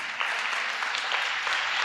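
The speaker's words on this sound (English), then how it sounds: "Round of applause." A short round of applause from a small group at a pre-Christmas celebration, steady clapping that fills the whole moment, fairly close and even in loudness.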